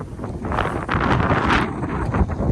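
Strong wind buffets the microphone beside a whitecapped lake on a hiking trail, a loud, continuous roaring rumble with no breaks.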